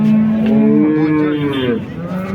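A cow moos loudly and close by in a long, drawn-out low, with a second lowing call following and background noise of the Modnimb cattle market in Solapur.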